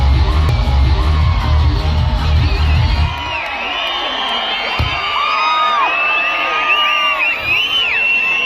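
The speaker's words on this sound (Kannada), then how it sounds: "ಚಪ್ಪಾಳೆ." A village fair crowd in Malligere cheers, whoops and shouts loudly and continuously during a stage comedy show, with a deep low rumble underneath for the first few seconds.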